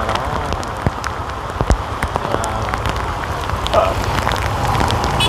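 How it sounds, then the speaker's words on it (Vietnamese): Steady rain falling during a storm in Saigon, an even, close hiss of drops on surfaces with scattered small patters and no talking. "Quay cảnh trời mưa"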